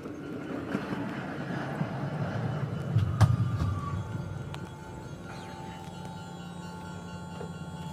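A train on the Iga Line rumbles into a station and passes close by, its low mechanical roar swelling midway and then settling into a steady hum with a faint high whine.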